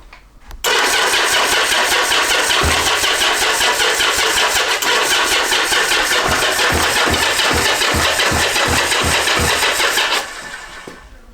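A Yamaha XS850 motorcycle that has sat unstarted is cranked on the starter, a loud continuous whirring grind lasting about ten seconds with rhythmic compression chugs, before stopping without catching.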